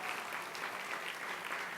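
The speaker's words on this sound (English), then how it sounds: "Let's give him a round of applause." Audience applause at an awards dinner, a steady dense wash of many hands clapping at moderate level, continuous and without pauses for the whole stretch.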